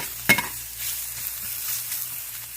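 Food browning in a hot pan before going into a broth or gravy, giving a steady low sizzle with a sharp clatter of stirring near the start, close and moderately loud with no talking.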